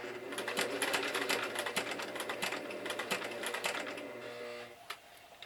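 A sewing machine slowly stitches a fabric wrist strap, making a close, steady mechanical chatter of needle strokes. Near the end the stitching stops and the sound drops away.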